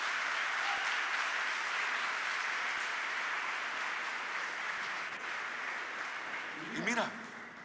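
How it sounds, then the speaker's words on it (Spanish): A church congregation at a conference applauds loudly and steadily in a dense, even wash of clapping with some crowd voices, ending in a brief louder swell near the close. "Alguien le puede dar un aplauso fuerte a nuestro Dios"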